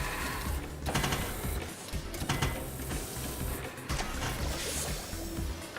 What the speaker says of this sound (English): we're just going to throw this into a pill printer